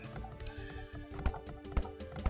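A horse neigh from Age of Empires 2 while a stable is being built, with a few light clip-clop taps, fairly faint and close, standing alone without talk.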